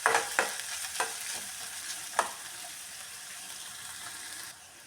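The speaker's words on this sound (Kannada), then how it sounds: "ಇದು ಸ್ವಲ್ಪ ಚೆನ್ನಾಗಿ ಫ್ರೈ ಮಾಡ್ಕೊಳ್ಳೋಣ" Onions and green chillies frying in a pan, a soft, fairly quiet sizzle with a few scraping stirs near the start, then a steady hiss that drops off at the end.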